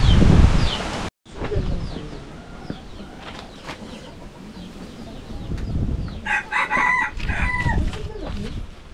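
Rooster crowing at a roadside rest stop near Mt Batulao, one loud, close crow rising over ambient outdoor noise and faint clucking, with passing movement sounds around it.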